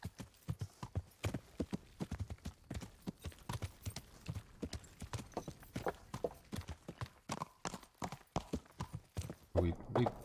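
Horse hooves clip-clop in a quick, steady rhythm, fairly close, with a voice talking over the hoofbeats, in the video game Kingdom Come: Deliverance.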